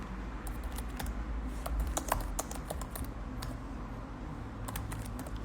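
Rapid clicking of a computer keyboard as a live stream title is typed, uneven bursts of close keystrokes with short pauses between words, no voice heard.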